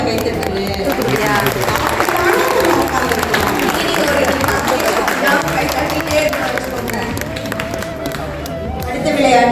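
Audience applause and cheering at a Pongal celebration in Thailand, a steady wash of clapping and crowd noise mixed with voices and chatter throughout.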